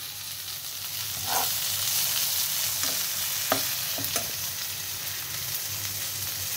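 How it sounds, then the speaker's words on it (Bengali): Spices frying in a pan while being stirred, a continuous close sizzle with occasional scraping stirs and a few soft knocks, fairly loud with no talking. "আমি একটু মশলাগুলো ভেজে নিতে নিতে দেখছি গন্ধ ছাড়ছে"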